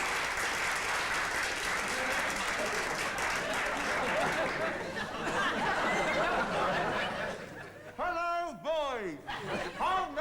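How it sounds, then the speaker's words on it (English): A school audience applauding a polar explorer old boy, a dense wash of clapping mixed with chuckles and laughter that tapers off near the end, where a voice cuts in briefly. "Applause, applause!"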